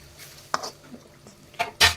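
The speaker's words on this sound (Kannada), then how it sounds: "ಇದನ್ನು ಕೂಡ ಈಗ ಚೆನ್ನಾಗಿ ಫ್ರೈ ಮಾಡಿಕೊಳ್ಬೇಕು" A spoon stirs palak paneer masala with yogurt in a pan, giving a few isolated scraping clinks against the metal and a louder clatter at the end, with quiet gaps between.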